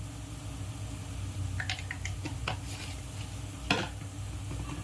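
Masala with Kashmiri chilli powder and turmeric stirred and roasted in a pan for Malvani shark curry: a handful of scattered scrapes and clinks over steady background hum, one sharper knock near the end.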